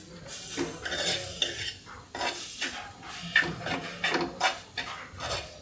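Onions and curry leaves being stirred in a pan for a traditional crab gravy: quick metallic scrapes and clinks of a spoon against the pan in uneven bursts over a light sizzle, close up, no voices.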